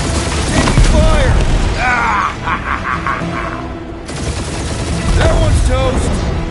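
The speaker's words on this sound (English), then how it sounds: "Taking fire!" Gunfire and booming blasts from a combat scene in the video game Guardians of the Galaxy, with loud bursts of shots and impacts layered over constant game noise and voices talking throughout.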